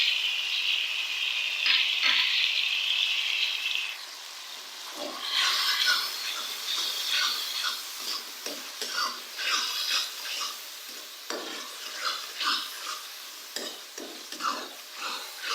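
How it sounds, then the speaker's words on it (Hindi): Red chilli powder, salt and whole cumin seeds fry with boiled cauliflower in a pan, giving a steady close sizzle with repeated scraping and stirring clatter throughout, no talking. "मसालों को अच्छी तरह से हम भूनेंगे।"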